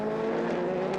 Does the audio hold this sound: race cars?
yes